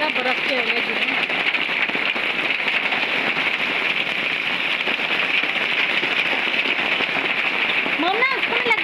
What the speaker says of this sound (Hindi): ये देखिए जी इतने ज़्यादा बर्फ़ के ओले गिरे हैं।